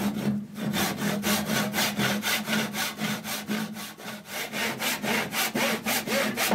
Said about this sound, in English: I just go ahead and saw this off.